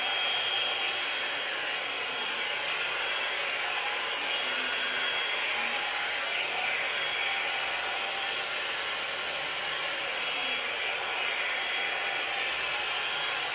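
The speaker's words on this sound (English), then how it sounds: "it's pretty impressive how quickly this dries my hair even in the medium heat setting" Revlon One Step Plus hot air brush on medium heat drying curly hair, a continuous close whooshing blower hiss that holds steady the whole time with no talking.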